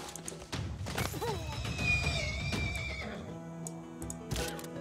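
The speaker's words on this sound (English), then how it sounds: "The horsey." A horse unit in the strategy game Civilization 6 lets out a loud, close whinny with a rising and falling neigh, followed by a quieter thump.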